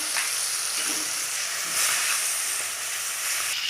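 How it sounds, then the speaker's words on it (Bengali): Fish seasoned with turmeric and salt frying in hot oil, a loud continuous sizzle and hiss held close throughout with slight swells. "এবার মাছটা ভেজে নেব।"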